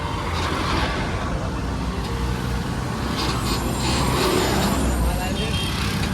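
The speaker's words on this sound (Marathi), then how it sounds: "ट्रॅफिक" Road traffic noise of cars and trucks passing on a busy street, a steady broadband rumble heard close by with people talking over it.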